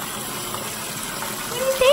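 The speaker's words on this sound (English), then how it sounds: "We're giving Avery her very first bath" Tap water runs steadily and close by for a puppy's first bath, with a voice briefly rising over the rushing flow near the end.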